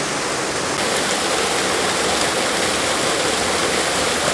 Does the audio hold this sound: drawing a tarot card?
no